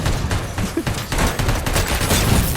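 Enemies in the shooter RoboCop: Rogue City lay down dense, continuous gunfire, loud, overlapping shots and bursts packed together with no break throughout.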